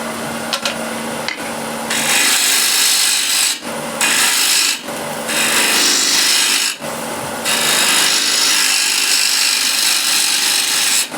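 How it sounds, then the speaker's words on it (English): A spindle gouge cuts the foot of an 11-inch wooden plate on a lathe, giving loud rasping, hissing passes that start and stop in several bursts over a steady motor hum, with no talk. "So spindle gouge, and let's go for the foot, maybe somewhere around here"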